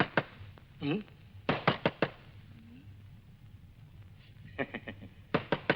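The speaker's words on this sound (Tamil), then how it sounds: "கதவு தட்டுற சத்தம் கேட்டுக்கிட்டே இருக்குது" Someone raps on a door in sharp bursts of three or four quick knocks, repeated several times with pauses between, fairly loud and close, while a faint voice briefly sounds in between.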